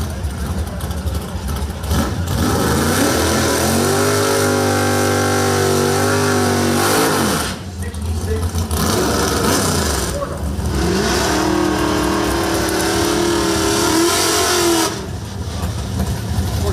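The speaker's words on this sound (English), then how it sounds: "So this is what a street race might look like." Two cars launch and accelerate hard in a drag race, engines roaring loud and close with rising pitch through the gears, two long passes separated by a brief dip.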